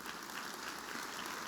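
A church congregation applauds, a steady wash of many hands clapping at even loudness throughout, with no voices standing out.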